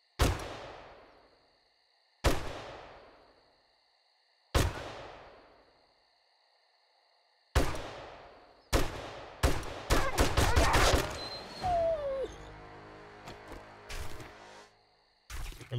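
Gunfire in the survival video game 7 Days to Die: four loud, separated single shots each trailing off, then a dense burst of rapid shots and ringing impacts, with no talk.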